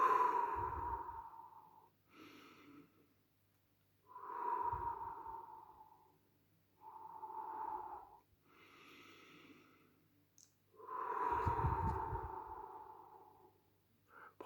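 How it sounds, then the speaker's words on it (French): Slow, deep breaths taken during a guided meditation, a calm sequence of long inhales and exhales spaced a few seconds apart, close and soft with quiet pauses between them. "prendre 3 respirations pour apprendre à revenir au centre"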